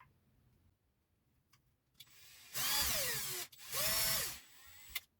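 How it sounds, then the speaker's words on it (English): Power drill with its bit wrapped in tape boring holes into wood: two loud sustained whirring bursts with a falling then rising motor pitch, separated by a brief pause, after quiet handling noises. "I've only got 4 holes to drill anyway, so let's do them"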